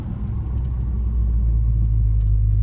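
A 1987 Chevrolet Silverado pickup truck braking on the road, a steady low engine and road rumble that settles and deepens as it slows, with no squeal and no voices.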